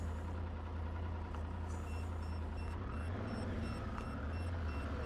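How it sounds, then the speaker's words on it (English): Faint, evenly spaced electronic beeps from a motorcycle radar system warning of a vehicle approaching behind, over a steady engine drone and road rumble while riding. "radar system was beeping there to warn me of the vehicle approaching behind"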